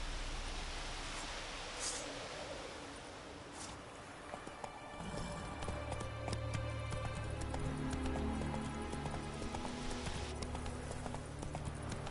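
Roach the horse gallops in The Witcher 3, hooves clip-clopping in a fast, steady rhythm over a wash of outdoor ambience, fairly close and continuous.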